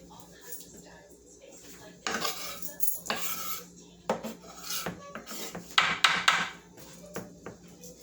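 Metal clatters and scrapes as a lid is set onto a cooking pot of corn and poblano chowder, a series of sharp close knocks and rattles over a quiet background.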